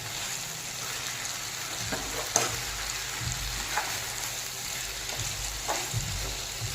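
Chicken frying in a pan as its liquid cooks off, a continuous close sizzle with occasional stirring clatters and scrapes, no talking.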